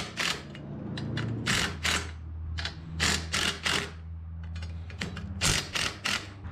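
A wrench works bolts loose on a trailer hitch rated for 5,000 pounds, giving close, sharp metallic clicks and ratcheting bursts in irregular clusters over a low hum.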